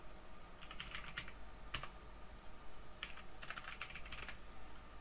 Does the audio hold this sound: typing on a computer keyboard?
yes